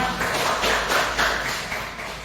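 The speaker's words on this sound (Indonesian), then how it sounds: "Kasih tepuk tangan buat Tania." Students in a classroom give a fellow student a round of applause, a thick, continuous patter of many hands, close and fairly loud, easing off slightly toward the end.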